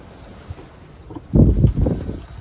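Wind and waves at sea aboard a sailboat in winter off the Rhode Island coast, blustery rumbling microphone wind and sloshing surges swelling loud midway, no talking.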